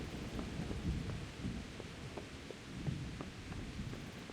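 Rain and thunder in the video game Kingdom Come: Deliverance make a faint, steady wash of rainfall over low rumbling thunder, with soft scattered ticks throughout.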